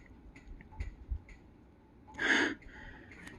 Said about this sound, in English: He breathes in and out.